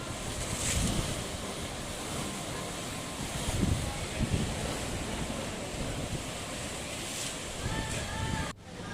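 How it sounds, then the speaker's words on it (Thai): Ocean surf washing onto the shore at Hua Hin on a windy day, a steady broadband roar of breaking waves with gusts of wind buffeting the microphone throughout. "ฟังเสียงคลื่นกระทบฝั่ง"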